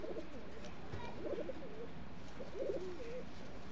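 Two pigeons standing together coo in soft, low bursts, with two clear phrases of throaty, rolling calls close by over a quiet background.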